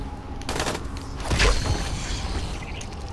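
Gunfire in the zombie game Dying Light, a few crackling shots and a heavier burst near the middle over a constant noisy background, moderately loud and close.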